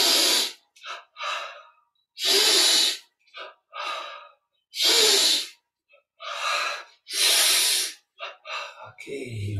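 Deep rhythmic breaths during a yoga exercise, with strong airy inhales and exhales in regular bursts and short pauses between, close and clear.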